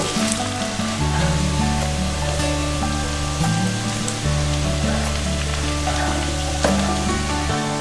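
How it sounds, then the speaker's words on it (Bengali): Chopped onion and whole garlic frying in a pan, a loud continuous close-up sizzle with a low steady hum beneath and occasional crackling pops. "এই রসুন এবং পেঁয়াজটা আমি দু থেকে তিন মিনিট খুব ভালো করে ভেজে নেব"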